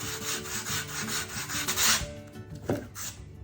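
Sandpaper wrapped on a block rubs back and forth over a mold being shaped, a steady close abrasive rasping in continuous strokes with no talk.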